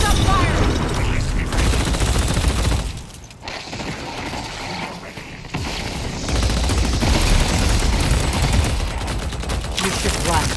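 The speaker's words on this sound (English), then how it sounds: "Don't stop firing!" Sustained rapid gunfire in the video game Deadlock during a bot match, a loud continuous mechanical rattle that dips briefly midway before resuming at full intensity, with a voice faintly in the mix.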